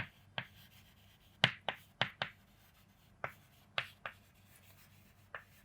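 Chalk or marker strokes on a classroom board, a quiet series of short, sharp scratches coming in irregular bursts with brief pauses between them.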